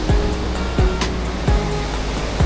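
A fast stream rushes beneath a bridge at Oyam in Panchthar, a steady, loud broadband roar of water close by, unbroken for the whole stretch, with faint recurring sweeping tones riding over it.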